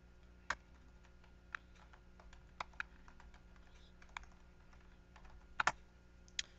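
Someone types a username and password on a computer keyboard, sparse quiet key taps with a few sharper clicks over faint background hum.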